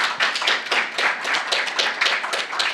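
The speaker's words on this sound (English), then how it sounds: "Please give me a round of applause." A lecture audience claps steadily in a dense, continuous round of applause after a talk on Islamic architecture, with sharp individual claps close by and no voices.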